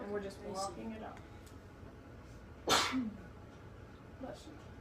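A single sharp sneeze bursts out during a piano lesson, loud and brief against a quiet room, after a few sung or played notes and some light background sound.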